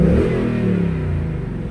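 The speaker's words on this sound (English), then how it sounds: "Let me let you guys hear it with the exhaust sound." Brief, deep burble from the exhaust of a 2020 Ford Mustang 5.0 idling up close, a low throaty rumble with a slight rev that settles.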